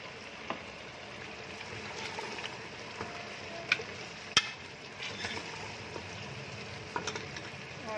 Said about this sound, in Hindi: गोश्त भून रहा है, इसमें तकरीबन घी छोड़ना शुरू कर दिया है।